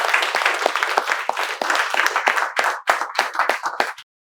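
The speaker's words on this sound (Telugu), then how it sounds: "సో మీకు మేమందరం చప్పట్లతో వెల్కమ్ తెలియజేసి సెలవు." A group clapping in welcome in a spoken English class, brisk dense applause that thins into a few scattered final claps before stopping abruptly.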